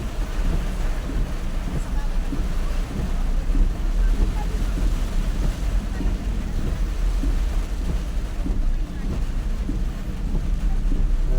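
Steady roaring typhoon wind buffets the microphone throughout, a dense low rumble with no clear breaks, while a voice speaks faintly underneath.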